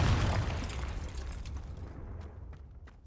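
A Confringo fire spell from Hogwarts Legacy goes off as one loud, close blast that fades into a rumbling tail, with faint crackles trailing near the end.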